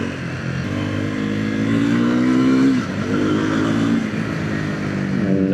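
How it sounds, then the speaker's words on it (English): A Triumph 400X Scrambler motorcycle engine revs up through rising pitch sweeps, briefly eases, then pulls again, loud and close with no talking. "Nice little engine."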